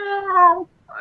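A human voice imitates a cat yowling inside a carrier, giving one drawn-out, whiny meow-like wail that breaks off, followed by the start of a second.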